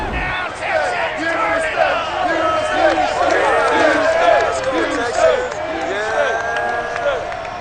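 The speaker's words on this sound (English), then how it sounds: "this crowd enthusiastically cheering on their Texans as they emerge from the locker room" A large stadium crowd in the Madden NFL 22 video game, shouting and cheering loudly and continuously as the Houston Texans take the field against the Dallas Cowboys, a dense roar of many voices.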